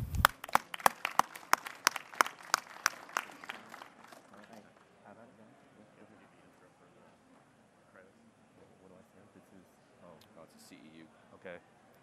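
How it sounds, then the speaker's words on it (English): Audience at a conference session on mobile derived credentials and identity security applauds a speaker being introduced: about four seconds of crisp, scattered clapping that thins out, followed by murmuring and the room settling. "Please give me a round of applause for Jeremy Corey."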